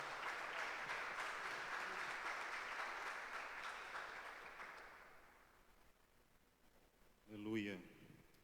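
A church congregation applauds during an evening service, a dense broadband clatter of many hands that fades over several seconds before a single voice begins speaking.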